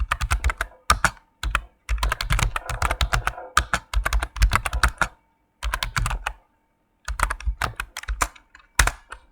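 Python code typed on a computer keyboard in quick, close bursts of crisp key clicks, with short pauses between runs and no talking.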